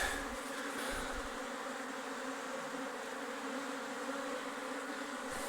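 A dense, steady drone of a honey bee swarm buzzing around its hive, continuous and fairly close, with no voices over it.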